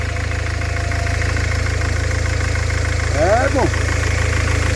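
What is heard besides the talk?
car engine starting and idling after priming the fuel line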